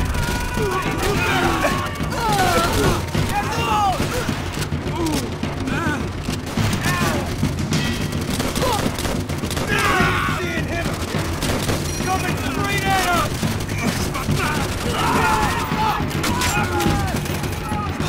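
Loud machine gun fire in Call of Duty: World at War during a beach assault, with rapid bursts and overlapping shots under a busy, chaotic battle din.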